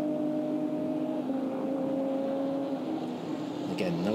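A Lotus race car engine at a Euroseries race at Misano, heard through the chicane as a steady engine tone with shifting pitch, ending in a brief gear change or rev, with commentary over it.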